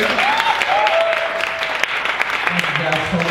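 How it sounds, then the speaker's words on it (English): Crowd applause at a live show in Montana, steady clapping with voices talking over it and a few louder hand claps near the front. "Give yourselves a round of applause for coming out here."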